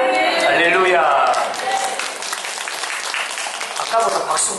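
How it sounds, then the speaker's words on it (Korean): A church congregation applauds, with dense, close clapping mixed with voices that starts as speech fades and then holds at a steady, moderate level. "아까보다 박수 훨씬 적잖아요"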